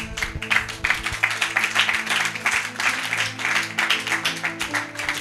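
A church congregation claps during a Bible teaching, a steady, moderately loud patter of many hands with pulsing rhythm throughout, over a low sustained background tone.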